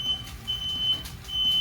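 A kitchen smoke alarm sends out thin, high electronic beeps at fairly steady intervals, moderately loud but somewhat distant, over quiet room background.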